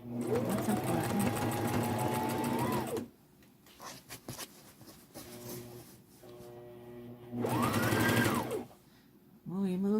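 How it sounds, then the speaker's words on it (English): A domestic sewing machine back stitches along a pocket seam in a quiet sewing room, with two bursts of steady, rapid mechanical whirring separated by a pause filled with soft handling noises and a brief voice. "I'm back stitching to lock in my stitch."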